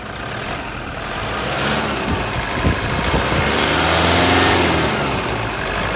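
Toyota Hilux SRV 3.0 4x4 diesel engine, 2010/2011, revved up to around 3000 rpm, a loud, close, steady roar that swells and eases back without talking over it.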